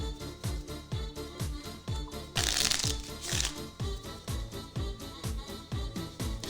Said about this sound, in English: I'll shuffle up these cards